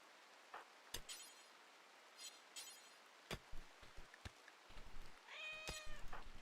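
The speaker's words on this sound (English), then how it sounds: "they actually just make a meow sound" Cat meowing in RimWorld, a video game: a short rising-falling meow near the end, after scattered soft clicks and light taps, quiet overall with no talk.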